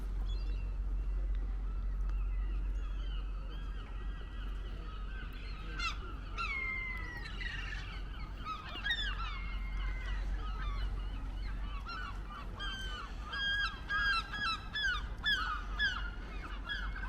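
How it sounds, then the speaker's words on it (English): Seagulls call loudly by Conwy harbour, a run of harsh squawks and cries that grows busier and nearer midway, over a steady wind and low engine rumble of boats. "The seagulls are going wild."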